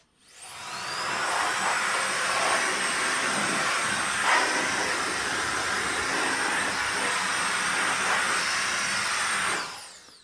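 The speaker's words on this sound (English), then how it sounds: "Just get an air duster and give your PC a blow" Electric air duster blowing dust off a PC case, a loud, continuous high-pitched jet of air that spins up, holds steady for about nine seconds, then winds down.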